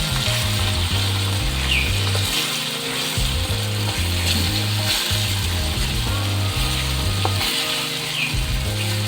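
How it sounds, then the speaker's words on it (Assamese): Fish frying lightly in hot oil for a sour curry with thekera, a steady close crackling sizzle running throughout, joined by a repeating low mechanical churning hum in the background. "টেঙা জোলত মাছবোৰ বেছি টানকৈ ফ্ৰাই নকৰিলেও হয়, সামান্য ফ্ৰাই কৰিলেও হয়।"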